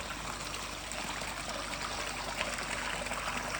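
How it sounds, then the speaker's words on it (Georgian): Water trickles and flows steadily from the altar of a church, a constant soft wash of running water with no voices. "მოედინება წყალი საკურთხევლიდან"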